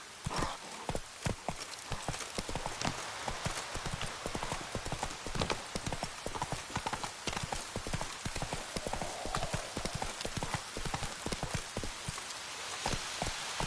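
Horse hooves galloping in The Witcher 3 on PS5, a steady rapid clip-clop that runs close and loud throughout, with rain-like texture and occasional whinnies.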